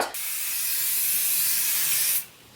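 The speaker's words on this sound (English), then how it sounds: "I'm gonna leave this strand here and then spray the rest" A steady, close hiss of hairspray sprayed in one continuous burst lasting about two seconds, then cutting off.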